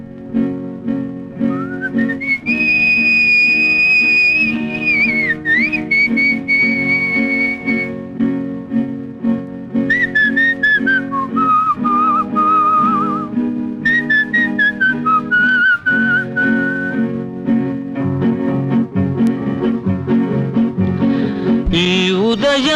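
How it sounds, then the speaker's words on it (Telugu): A person whistles a song melody, clear and close, with long sustained notes, gliding pitch bends and phrase breaks, carrying on continuously and loudly with no talk. "మనసులో హుషారు ఎక్కువైతే మనిషి ఈల పాటలు పాడేస్తూ ఆనందాల షికార్లు"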